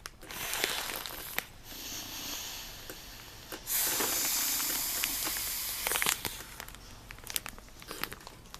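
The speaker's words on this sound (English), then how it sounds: "Take out as much of the air as we can." Air is drawn out of a Ziploc freezer bag packed with smaller bags of sliced peppers: crinkling plastic and rattly clicks, then a sustained close hiss of suction for a couple of seconds, followed by scattered crackles.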